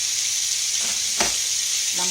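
Mushrooms frying in grease in a pan give a steady, close sizzle throughout, with a couple of faint clinks of stirring underneath and no voices.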